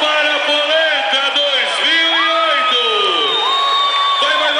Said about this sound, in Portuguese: Aplausos para a Polenta